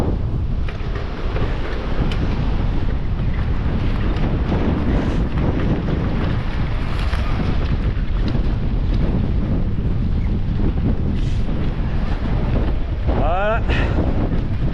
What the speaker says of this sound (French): Qui est en plein vent.